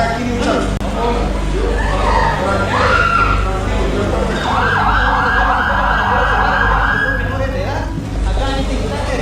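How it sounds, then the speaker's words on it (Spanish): An ambulance from the 69th company of volunteer firefighters in Guatemala arrives, its siren wailing loudly for a few seconds mid-scene over a busy rumble of engines and background voices. "Está entrando una ambulancia de la 69 compañía de bomberos voluntarios."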